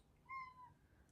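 One short, clear meow sounds close by, rising then trailing off, in an otherwise quiet room.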